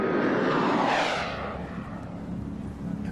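Black stealth jets of the 37th Tactical Command fly past as a loud, broad jet roar that swells near one second, then eases into a steady lower rumble.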